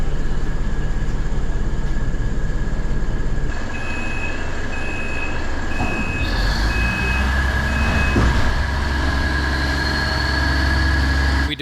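Three-car SKPL diesel multiple unit train pulling out of Opole, heard from inside as a steady loud engine drone and rumble with a high warning beep tone and faint clanks, no talking.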